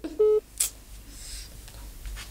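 A single short, loud telephone keypad tone sounds, followed by a brief click and then near silence with faint room noise.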